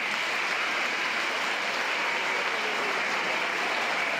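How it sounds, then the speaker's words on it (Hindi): An audience at a personality-development talk claps together in dense, sustained applause that stays loud and steady throughout, with no speech over it. "आइए हम लोग एक बार जोरदार सबके लिए तालियां बजाते हैं।"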